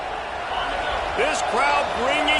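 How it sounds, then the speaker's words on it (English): Stadium crowd roaring at a college football game between South Carolina and Colorado, a dense, steady wash of cheering that swells slightly near the end, with whistles and shouts rising above it. "This crowd bringing the energy and noise early."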